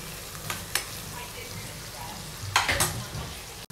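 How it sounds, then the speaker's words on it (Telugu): Onion, garlic, ginger and green capsicum frying in a pan with a soft steady sizzle, broken by a few scraping stirs and a clatter of the spoon, close and quiet. "చూడండి, ఇలా మధ్యలో మిక్స్ చేసుకుంటూ ఫ్రై చేసుకోవాలండి."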